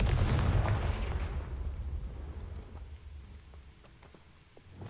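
Confringo fire spell blast in the video game Hogwarts Legacy, a loud booming burst at the start that trails off into crackling rumble and scattered sharp pops.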